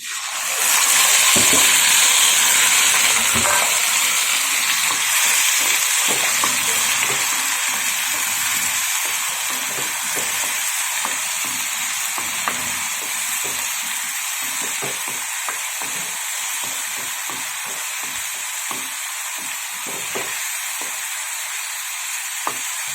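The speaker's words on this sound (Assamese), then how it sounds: "তাৰপৰা মই ইয়াত দিম পিঁয়াজৰ পেষ্টখিনি" Onion paste sizzles steadily in a hot pan with whole cardamom and other fried spices, a loud continuous frying hiss broken by frequent short scrapes and taps of stirring.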